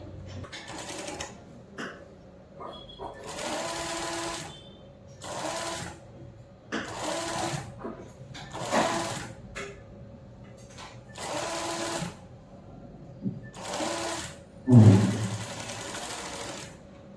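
A sewing machine stitches a two-piece katori blouse in repeated bursts of steady mechanical whirring, each run a second or two long with short pauses between, close and fairly loud.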